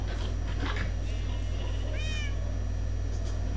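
A cat in the Minecraft video game gives a single short meow at about two seconds over a steady, loud background hum with game ambience.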